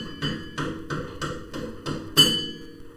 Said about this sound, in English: With this bolt, I like to just like hammer it out.